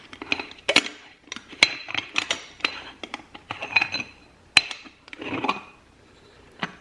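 Mocha pot being unscrewed, with a run of metallic clicks, scrapes and taps that are close and irregular, and nothing spoken.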